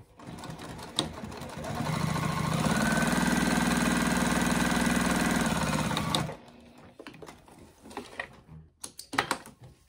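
A sewing machine runs steadily for about five seconds, stitching fabric for a small backpack, loud and close with a whirring motor, then stops, followed by scattered handling clicks and rustles.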